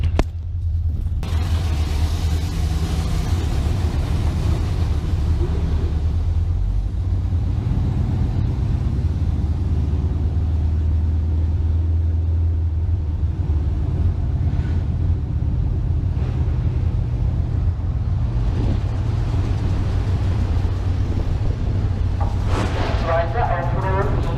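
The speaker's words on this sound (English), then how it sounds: "This is Hockenheim Top Fuel Drag Racing 2016." Top fuel drag racing at Hockenheim in 2016, with a loud, continuous low engine rumble that fills the whole stretch at steady level, while a crowd or announcer is faintly present underneath.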